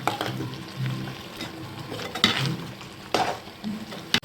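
Roasted rice flour being stirred into cooked grated coconut in a pan for kozhukkatta, giving soft scraping and gentle sizzle with a few sharper clinks of the spoon against the pan, close and alone.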